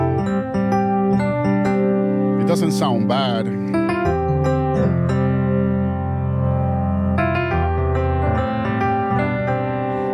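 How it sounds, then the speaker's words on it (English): An electric piano patch on a 61-key MainStage keyboard rig plays sustained chords with layered harmonics and some effects coloring, a brief swirling passage midway; a voice speaks briefly over it. "I couldn't hear the EP sound. So it would get lost. It would sound like this."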